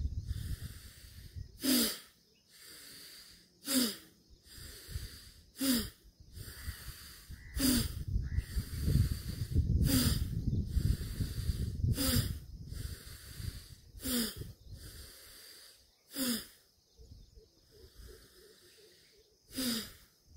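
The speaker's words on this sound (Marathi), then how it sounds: "भस्त्रिका प्राणायाम, लंबा श्वास आत घ्यायचा आणि बाहेर सोडायचा" Bhastrika pranayama breathing: forceful, hissing breaths in and out through the nose, loud and close, repeating in a steady rhythm of sharp bursts with brief pauses between.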